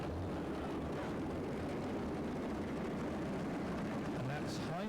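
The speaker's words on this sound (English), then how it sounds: "He's driving with 3 Allison V12 engines." A 5.4-ton pulling tractor powered by three Allison V12 engines at the 1997 European Tractor Pulling event in Sottrum, Germany, gives a loud, continuous roar with a commentator talking over it.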